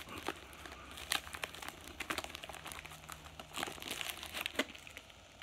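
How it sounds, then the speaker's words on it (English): A Donruss jumbo basketball trading card pack wrapper crinkles and tears as it is opened, with close, irregular plastic crackles and rips in bursts, moderately loud, without talking. "I'm just going to open up this big Donruss jumbo pack"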